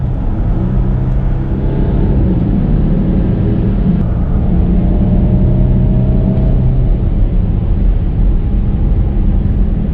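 A Mercedes ML 3-litre SUV accelerating, heard from inside as a loud, continuous engine drone with a rising tonal hum and steady road rumble throughout.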